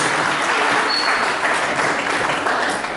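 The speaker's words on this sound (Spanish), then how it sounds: "quiero pedir los aplausos de bienvenida a nuestro ponente Alan Castro Riveros" A room full of people applauds warmly to welcome a speaker at a talk, steady clapping that carries on evenly for a few seconds without any talking.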